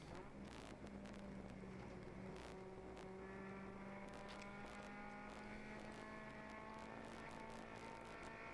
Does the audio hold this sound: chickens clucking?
no